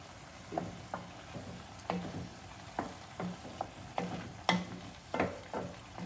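Rice cooks in vegetable stock for restaurant-style mushroom arancini while a spoon stirs it in rhythmic scraping strokes about once a second, with a gentle bubbling sizzle underneath.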